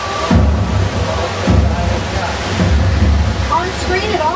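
A staged movie storm on a studio backlot set, with rain towers pouring water and crashing waves, a steady loud wash of falling water and surf with periodic surges, heard alone.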